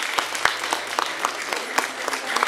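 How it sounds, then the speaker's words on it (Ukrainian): Scattered hand claps from a small group, sharp and fairly close, spaced unevenly as a brief round of applause with no talking over it. "Аплодисменты."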